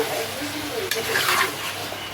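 Marinated chicken hits a pan of onions and green chillies frying in oil. It gives a close, steady sizzle with brief stirring scrapes over about two seconds.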